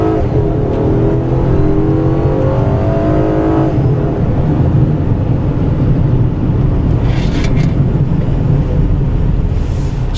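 The V6 engine of a 2014 Honda Crosstour pulls hard under acceleration, a steady droning rise in pitch with road and wind noise filling the cabin throughout.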